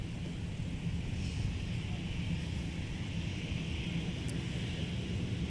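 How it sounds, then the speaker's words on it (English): Delta A321-200 airliner taxiing by on a taxiway at Minneapolis–St. Paul airport, a steady low jet rumble with a constant engine whine, moderately distant and unchanging throughout. "about to go by us on taxiway Whiskey is Delta 1032. That's an A321-200 headed to Atlanta."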